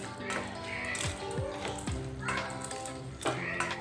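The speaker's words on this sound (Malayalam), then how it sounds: "എല്ലാം കൂടി നന്നായി ഇളക്കി കൊടുക്കുക." Fried boondi being stirred through sugar syrup in a pan, with repeated scraping and tapping of a spoon against the pan. It is close and steady, and a few faint knocks come in between the strokes.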